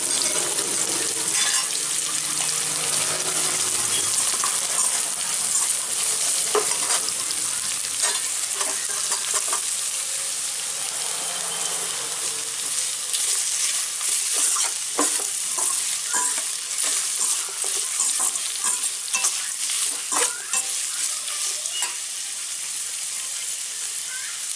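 Sliced onion, carrot, beans, capsicum and green chili fry loudly in a pan, with a steady close sizzle and repeated scraping stir strokes that run through the whole stretch without speech.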